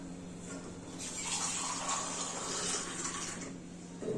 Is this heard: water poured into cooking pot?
yes